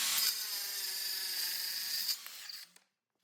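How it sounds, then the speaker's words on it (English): A Festool HKC 55 cordless circular saw runs through a compound miter cut in wood along its track, a steady loud whine for about two seconds that then spins down and fades to silence. "butting the track up against the stoppers and making your cut."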